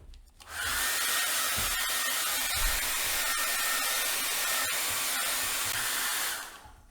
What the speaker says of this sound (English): And then we're just gonna blow it dry.